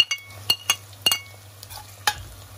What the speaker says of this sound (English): I'm now going to add my chilies